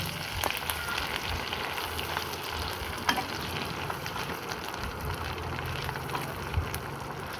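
Onions and Malabar spinach (pui shak) with shidol being stirred in a frying pan, a steady close sizzle with occasional scraping clicks of the utensil against the pan.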